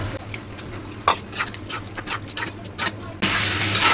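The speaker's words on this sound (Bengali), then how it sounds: "এখন আমি মাছটা দিয়ে দিব।" Small pieces of fish go into a hot pan with ginger-garlic paste and are stirred, giving a series of short scraping clatters followed by a steadier, louder sizzle near the end.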